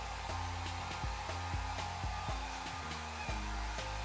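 A heat gun runs steadily while a carbon-look skin is heated and pressed onto the sides of an iPhone 6, a continuous close airflow hum with repeated low thuds and knocks from handling.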